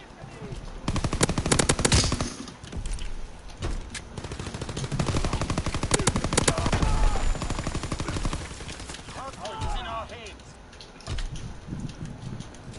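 Rapid automatic gunfire bursts from a multiplayer shooter game, loud and close, in dense repeated volleys with gaps between, while a voice talks over the action.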